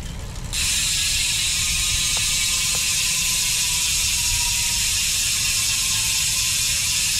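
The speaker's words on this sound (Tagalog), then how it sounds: "yung tunog ng Speed 1 Soldier MTB hubs kapag naka free wheel" A Speed 1 Soldier mountain bike hub freewheels with a steady, rapid ratcheting buzz, close and continuous, starting abruptly and holding even throughout.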